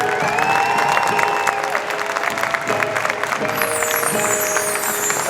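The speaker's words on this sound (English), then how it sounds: "Now give one more big round of applause to your cast of Christmas at Gaylord Palms" A crowd at the Christmas at Gaylord Palms show gives the cast a loud round of applause, continuous clapping and some cheering, with music tones and chimes ringing over the claps.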